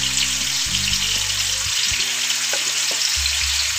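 Chicken pieces fry in hot oil with a loud, steady sizzle and crackle, bubbling close up for the whole stretch with no talking.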